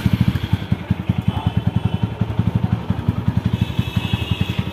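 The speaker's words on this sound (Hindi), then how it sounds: "तो अपनी गाड़ी को पहले स्टार्ट करते हैं 10 मिनट के लिए।" A TVS Apache 200 4V motorcycle engine runs up close with a steady, rapid, even thump of exhaust pulses and a light mechanical clatter. It sounds alone throughout.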